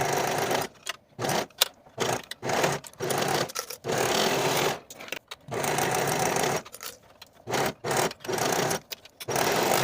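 A sewing machine sews quarter-inch waistband seams on stretch leggings in short bursts of rapid, whirring stitching, separated by brief pauses, fairly close and clear with no talking.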